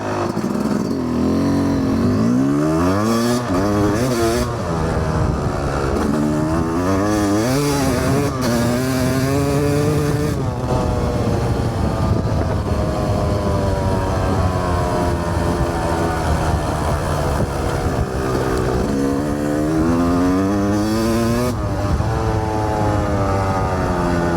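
A dirt bike engine revving after its air screw was backed out about half a turn: a loud, close motor rising and falling through repeated throttle blips, with no voices over it.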